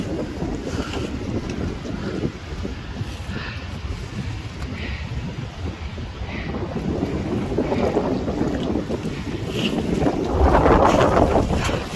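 Strong wind roars steadily across a microphone on a mountain hike, a broad low rumble that swells louder toward the end, with no talking.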